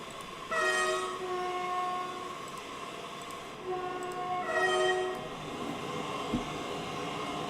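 A passenger train runs past with two long horn blasts, the second after a pause, over a steady rumble of rolling wagons, heard at moderate distance with no talk.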